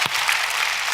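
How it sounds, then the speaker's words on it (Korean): A brief burst of applause at a Thanksgiving Sunday church service, many hands clapping in a dense, even patter, moderately loud and without voices. "우리 주님 앞에 다시 한번 감사와 영광의 박수를 드리겠습니다"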